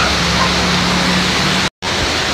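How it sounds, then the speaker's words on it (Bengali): Heavy rain pounding on a tin roof during a windy storm, a dense, loud, continuous hiss close at hand with one momentary dropout near the end. "ওই টিনের চালটা দেখলে বোঝা যাইতেছে যে কত জোরে বৃষ্টি হইতেছে"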